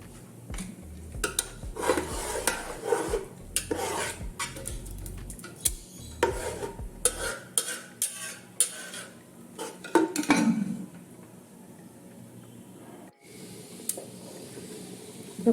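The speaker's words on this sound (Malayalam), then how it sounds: "നമ്മൾ ഇടയ്ക്കിടയ്ക്ക് ഇളക്കി കൊടുക്കണം" A spoon stirs a thick jackfruit mixture in a pressure cooker pot, with scraping and knocking against the metal in irregular bursts, then a quieter stretch.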